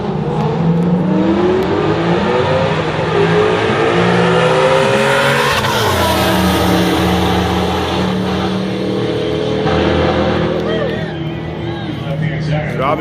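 Race cars in a 140 roll class race roar loudly and continuously, with engines rising and shifting pitch as they accelerate past, while a commentator talks over the noise throughout.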